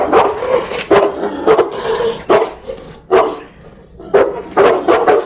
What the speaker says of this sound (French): vous voyez comment est-ce qu'il aboie. Il veut clairement m'attaquer.